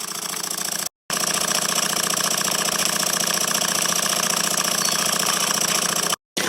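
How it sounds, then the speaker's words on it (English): Cirrus beam engine running on steam from a Stuart 501 boiler, a steady rapid mechanical chuffing and clatter with even rhythm, close and continuous apart from two brief dropouts. "the boiler's steaming very happily, the engine's running very happily"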